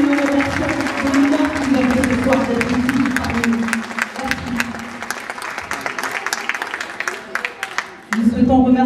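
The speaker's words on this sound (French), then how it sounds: "Nous l'applaudissons très fort ce soir." Audience applause at a fashion show in Aulnay-sous-Bois, sustained clapping mixed with music and voices, briefly dipping near the end before swelling again.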